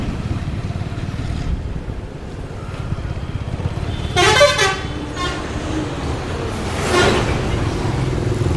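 Lorry horns honk amid busy road traffic near a temple, heard from a moving bike: two loud blasts stand out over constant rumbling engine and wind noise.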